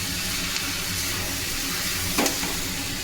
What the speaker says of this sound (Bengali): এবার এর মধ্যে ম্যাগিগুলো দিয়ে দেবো, সেদ্ধ করে রাখা ম্যাগি। এবার এটা ভালোভাবে মিশিয়ে দেবো।